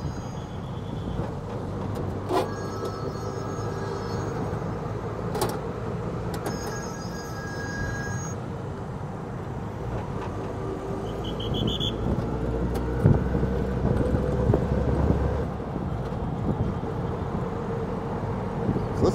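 An auto rickshaw ride from Dimapur airport in India carries a constant loud engine rumble and road noise, with passing traffic and occasional horn-like tones over the steady drone.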